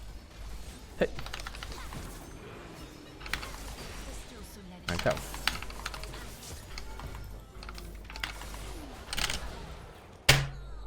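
Hard, fast keystrokes hammer a computer keyboard during a heated online game, bursts of loud clacking scattered among excited talk and laughter.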